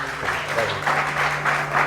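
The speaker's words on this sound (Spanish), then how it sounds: "un fuerte aplauso para nuestro ponente" An audience applauds a speaker at a seminar, steady crowd clapping with a low constant hum underneath.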